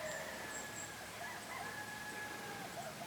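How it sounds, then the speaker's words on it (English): Chickens cluck and a rooster crows in the distance, faint and scattered over a quiet outdoor morning background in Alabama woods. "Somebody's chickens is really cutting up this morning."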